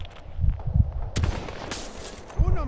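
Gunfire from a sniper rifle landing a headshot in the shooter game Battlefield 2042: a few sharp, punchy shots with echoing tails, spaced out among quieter game sounds.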